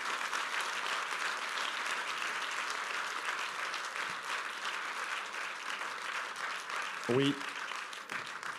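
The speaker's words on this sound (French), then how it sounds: "Je vous demande d'applaudir Boris Cyrulnik." An audience applauding Boris Cyrulnik, a dense sustained clapping from a large crowd filling the hall, with a brief voice heard near the end.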